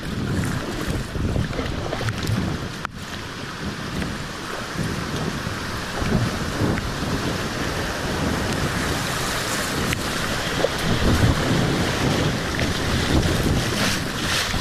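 Rough floodwater rushes past a kayak on the Haw River running at 25 feet. It makes a constant broadband churning hiss, heavily mixed with wind buffeting the microphone, with occasional splashes and no speech.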